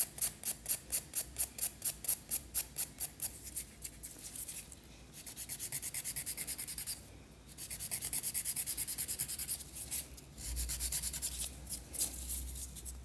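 A nail file rasping against a fingernail during gel nail extension work, close rhythmic scratching strokes, first quick and evenly spaced, then longer sustained rubbing passes with short breaks.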